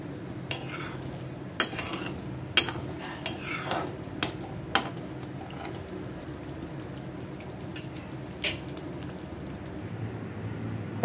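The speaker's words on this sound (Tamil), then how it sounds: "இப்போ கொஞ்சமாக கருவேப்பில சேர்த்து ஒன்றை போல நல்லா கலந்துக்கிட்டு ஸ்டவ் ஆஃப்" A spoon stirs tomato gravy with curry leaves in a pan, giving soft scraping under a steady low sizzle, with sharp metallic clinks against the pan scattered across the first few seconds and once more later on.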